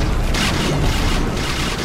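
A dense, rumbling explosion in the video game Plants vs. Zombies 2 fills the clip, a continuous loud blast with crackling debris noise and no speech.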